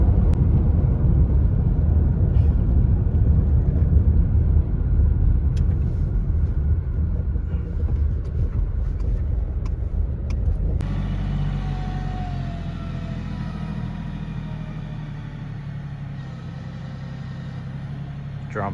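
A rented Bobcat backhoe engine runs steadily outdoors on a cold day of the first snow, a loud low rumble that holds throughout with no voices over it.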